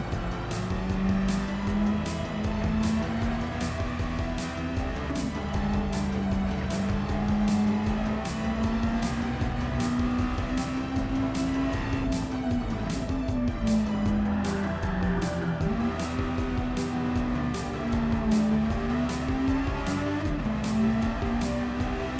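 Race car engine in Gran Turismo 7 holds a steady loud drone, its pitch rising and dipping through gear changes and corners, with repeated tire squeal and skidding layered on top.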